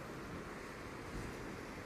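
Sea waves washing on the Ligurian coast of Italy, a soft, continuous rush of surf heard from a distance with a faint swell partway through, alone with no voices.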